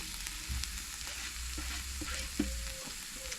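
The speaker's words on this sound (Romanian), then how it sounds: "Și adăugăm ceapă, o călim un pic." Chopped onion sautéing in a little oil in a pot for a pumpkin and buttermilk soup, a steady broadband sizzle with a low rumble underneath and a few soft utensil clicks and scrapes, continuous and close with no talking.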